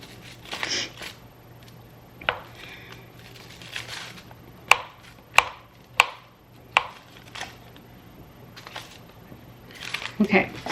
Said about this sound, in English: you're just going to start kind of crumbling the butter into the flour